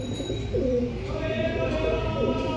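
Pigeons in a Bardhaman loft coo in a dense, steady low chorus, close by, with some overlapping voices mixed in.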